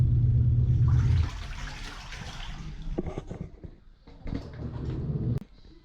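A small washing machine agitates dirty water, churning a little one way and then the other. The loud sloshing rumble is steady at first, then gives way to choppier splashes and knocks, with no voices.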